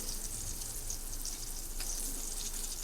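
Surmai fish coated in semolina fries in a hot pan, giving a steady, moderately loud crackling sizzle that runs without a break and with no voices.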